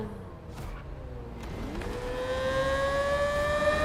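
Video-game car engine from Test Drive Unlimited, droning inside a tunnel; a smooth tone climbs steadily in pitch as the car accelerates, loud and sustained with a reverberant wash, no voices.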